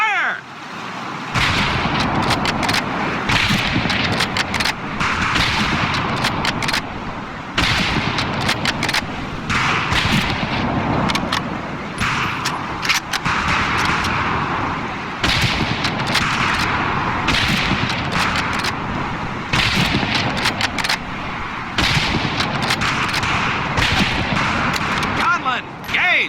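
Rifle fire crackles across a shooting range in the World War II game Medal of Honor: Pacific Assault, with loud repeated shots in bursts and short lulls over a continuous roar.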